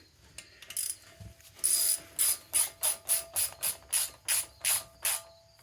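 A ratcheting wrench tightens a valve adjuster on a Honda CRF80F motorcycle engine, producing about a dozen sharp, close ratchet clicks in an even, rhythmic series after a few quieter metallic taps.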